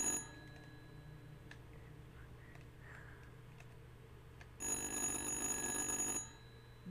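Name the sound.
telephone ringing in the video game Little Hope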